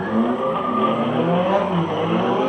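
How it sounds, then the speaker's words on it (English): A Nissan 200SX drift car at a gymkhana test on a race circuit, its engine roaring steadily with continuous tire skid and squeal throughout, loud and close with no talk. "So this is of course listen 200 SX STI proper drift car."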